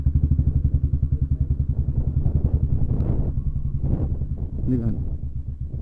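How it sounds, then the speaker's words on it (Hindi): A motorcycle engine throbs steadily and close while the bike rides through a large fort, the rapid pulsing continuing throughout with light clatter and a few bumps, and someone talks over it. "मैं आपको बाइक से एक्सप्लोर करके दिखा रहा हूँ इस किले को"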